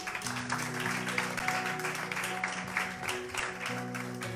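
A church congregation applauding, steady clapping spread across the room for several seconds beneath sustained organ or keyboard tones, with scattered voices in the crowd.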